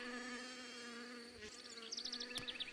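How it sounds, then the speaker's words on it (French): An Asian hornet (Vespa velutina) hovers in place near a beehive, giving a steady close buzzing drone that lasts throughout, with some fluttering wingbeat pulses toward the end. "Le velutina vole de façon stationnaire, le dos tourné à la ruche."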